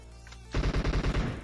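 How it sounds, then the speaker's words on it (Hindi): A short, rapid burst of automatic gunfire in PUBG Mobile, about eight punchy shots in quick rhythm after a brief quiet moment. "अब ये देखो भाई एकदम से फायर हुई"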